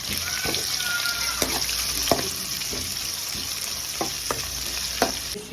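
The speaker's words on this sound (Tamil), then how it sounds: "ஸ்வீட் ஆனியன் ஆட் பண்ணுறேன். ஆனியன் கொஞ்சம் நல்லா வதங்கட்டும்." Sweet onion sautéing with garlic and green chilli in hot oil, a constant bright sizzle broken by sharp spatula scrapes and taps against the pan at irregular intervals.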